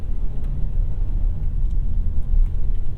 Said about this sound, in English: Let's go right through this puddle here.